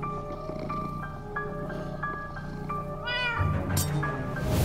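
A cat meows repeatedly in the Minecraft Story Mode video game, with drawn-out cries over game background sounds, followed by a rising rustling noise near the end.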